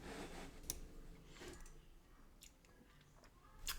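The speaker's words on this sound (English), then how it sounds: "Caught me chewing." A person chewing food, faint close-up mouth clicks and soft crunches spaced irregularly over a few seconds against low room noise.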